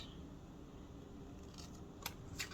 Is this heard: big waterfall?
no